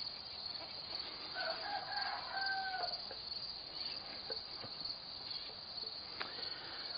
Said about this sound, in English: he's crowing a lot to tell me I need to stop bothering him